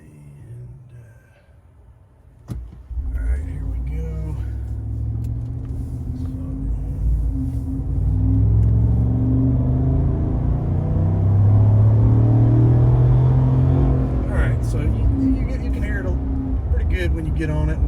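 A Chevrolet Silverado with the 5.3 V8 and a Borla Atak crate muffler rumbles deeply from inside the cab, its low exhaust drone building and swelling as the truck accelerates, with brief talk at the start.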